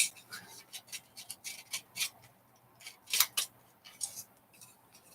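A tin bean or pea can having its bottom cut out with a tool: a run of close, faint metallic snips and scrapes in uneven bursts, one louder crunch partway through, no talking.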